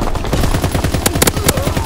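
Rapid automatic gunfire from a Call of Duty WWII team deathmatch on a tiny map, with dense repeated shots across the whole stretch and a few sharper, louder bursts standing out near the end.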